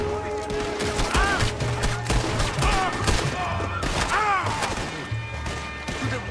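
Gunfire during a bank heist mission in Red Dead Redemption 2, a rapid fusillade of sharp shots and impacts running continuously over game ambience and clattering effects.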